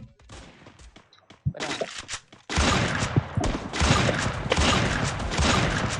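Barrett M28B sniper rifle firing in an online shooter game, sharp gunshots over a dense, loud bed of game noise and rapid firing that swells after a quieter, sparse opening.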